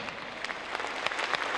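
Audience applause after a samba performance at a Latino fiesta show, a brief, fairly faint burst of steady clapping.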